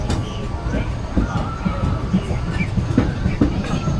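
A steam train on Tokyo Disneyland's Western River Railroad rumbles along with a steady low clatter and occasional rhythmic clicks, while people talk over the noise of the ride.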